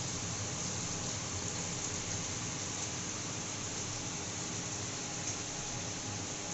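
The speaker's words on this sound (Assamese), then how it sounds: "বাহিৰত এয়া ধাৰাসাৰ বৃষ্টি আহি গৈছে" Heavy rain pours outside, heard from indoors as a constant, faint, dense wash of noise with no talk.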